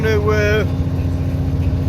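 Vehicle engine cruising at a steady 1800 revs, about 58 mph, a constant low droning hum under a brief rising whistle-like tone at the start.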